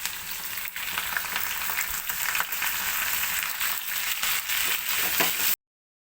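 Raw cleaned prawns hit hot oil with fenugreek seeds, cumin and curry leaves, sending up a loud, constant crackling sizzle with occasional stirring scrapes before it cuts off abruptly.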